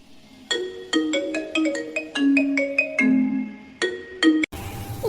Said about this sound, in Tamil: ஃபோன் அடிச்சிட்டு இருக்கு, எடுக்குதா பாரு.